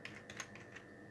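Quick, light keystrokes on a computer keyboard while typing into a search bar, a short, faint run of clicks close by with no talking.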